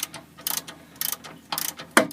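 A ratchet wrench tightens a rear shock absorber nut on a Mercedes-Benz W123, making three quick bursts of close, crisp pawl clicking with a short pause between each, followed by one sharper metallic clack.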